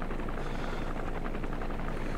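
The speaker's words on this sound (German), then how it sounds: "Hubschrauber?" A helicopter flies in Metal Gear Solid V: The Phantom Pain, its rotor and engine making a steady, continuous drone that stays fairly loud and even throughout, with no talking.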